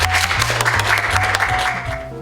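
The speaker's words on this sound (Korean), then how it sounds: "여러분 큰 박수 부탁드립니다." Audience applause during a prize presentation at a youth worship service, steady and fairly loud over sustained background music throughout.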